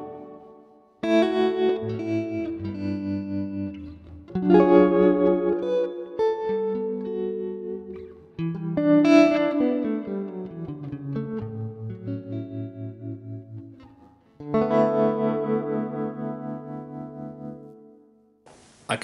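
Electric guitar played through a Strymon Flint pedal with brightness set high, giving a metallic, shimmering tone; clean picked chords and melodic phrases ring out in separate bursts with chorus-like wobble and lingering reverb tails.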